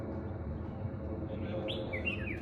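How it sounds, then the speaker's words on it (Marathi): Small birds chirp and whistle in short rising calls during a trek to Chanderi in Maharashtra, faint to moderate against a steady background hiss, with a few brighter tweets toward the end. "सगळं शांत बसलो तर बघा पक्ष्यांचा आवाज येईल."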